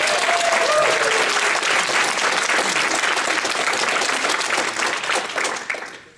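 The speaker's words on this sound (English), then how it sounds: "let's give a nice round of applause to Ms. Fowler" A crowd gives a warm round of applause for Ms. Fowler, dense clapping that holds strong for several seconds before tapering off and fading out at the end.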